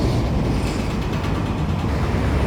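A freight train backs up through a rail yard with a loud, continuous low rumble and faint metallic rattling from the cars, heard up close and steady, with no one speaking.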